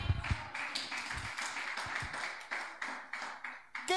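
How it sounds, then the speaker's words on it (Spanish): An audience applauds a model being dressed at a church event, a run of scattered claps at moderate distance over a few seconds, with a voice talking over the start. "Un aplauso a mi modelo."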